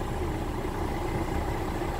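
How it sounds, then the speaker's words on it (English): A truck's diesel engine idles low and steady as the clutch is eased out in first gear during CDL driving training. The rumble stays even and fairly quiet, with no talk. "And now I can feel the engine engage. It wants to go."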